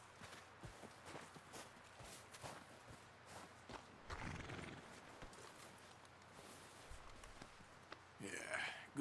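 A horse in the Red Dead Redemption II video game: faint clip-clop hoof steps and shuffling, with a louder burst midway and a short whinny-like snort near the end, low in level overall.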